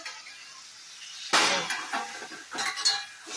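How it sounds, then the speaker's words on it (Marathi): Lid lifted off a pot of Khandeshi lonchi pickle cooking with jaggery: a single bright clink followed by softer rattling knocks, close by and without talk. "आता आपण झाकण काढूया."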